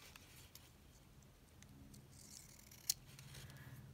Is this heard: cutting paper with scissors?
yes